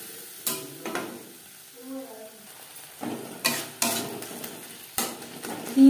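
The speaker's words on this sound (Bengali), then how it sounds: "মশলার সাথে বেশ ভালো করে মিক্স করে দেবো। আর দিয়ে দেব সামান্য পরিমাণে জল, মশলা কষাবার" Spice paste loosened with a little water is stirred in a pan for a Bengali katla fish curry with flat beans, giving repeated scraping strokes over a soft steady sizzle, with a few louder spoon knocks on the pan near the end.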